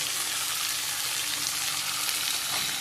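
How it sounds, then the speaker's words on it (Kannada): Cut cluster beans and potato frying in hot oil, a dense continuous sizzle heard close and steady throughout with no talking. "ಚೆನ್ನಾಗಿ ಫ್ರೈ ಮಾಡಬೇಕು ಎಣ್ಣೆಯಲ್ಲಿ."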